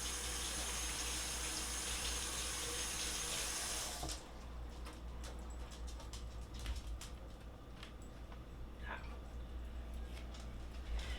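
Tap water runs steadily into a kitchen sink, then the flow changes and hands splash and rub under it, washing after handling raw beef, close by, with faint clicks.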